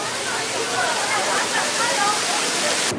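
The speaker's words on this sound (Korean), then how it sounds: "인공 폭포도 만들어졌습니다." An artificial waterfall on a mountainside in Seoraksan National Park makes a steady, even rush of falling water that holds constant throughout, with no talk.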